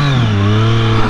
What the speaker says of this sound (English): One of the best noises. If you've not ridden a three-cylinder bike, you need to.